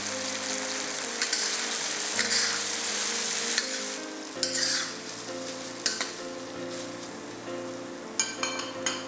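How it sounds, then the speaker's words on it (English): Five-spice pork belly in sauce reduces in a pan, giving a close, continuous bubbling sizzle with sharp spattering pops and a few clinks of utensils against the cookware. "Cover the pork belly and let the sauce cook down till it's reduced and the sauce has thickened."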